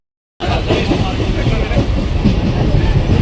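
A passenger train running on rails, heard from on board as a loud, steady rumble with rhythmic wheel clatter that starts abruptly after a short silence, with a hint of voices in the background.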